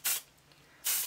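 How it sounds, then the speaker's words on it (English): Two short, loud hissing bursts of Davines dry texturizing hair spray, roughly 0.8 s apart, with quiet between them. "it is their dry texturizing for instant full bodied hair spray"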